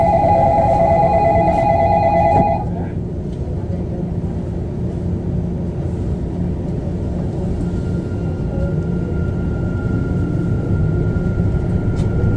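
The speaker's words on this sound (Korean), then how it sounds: "열차 곧 출발합니다. 출입문 닫습니다." A Sillim Line light rail train sets off between Saetgang and Gwanaksan: a loud door chime and beeps at first give way to a steady low running rumble with a faint high whine.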